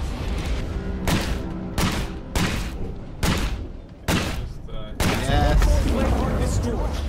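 Repeated gunshots ring out in the zombie survival game State of Decay 2, a steady series of loud, evenly spaced shots followed by a denser burst, with players talking faintly underneath.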